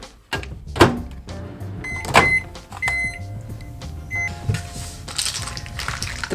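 A microwave oven heats chocolate for tempering: sharp clunks of the door, a run of short electronic beeps, then a steady humming drone, all fairly close.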